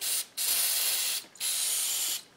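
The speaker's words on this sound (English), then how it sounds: "Aha, another can of brake parts cleaner." A can of brake parts cleaner sprays in two long, loud hissing bursts separated by a short pause, close up and alone.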